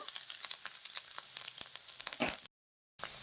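Urad dal and chana dal with cumin frying in hot oil for a curd chutney, a close, steady sizzle with scattered sharp crackles and pops, cut by a brief moment of silence before the sizzling resumes.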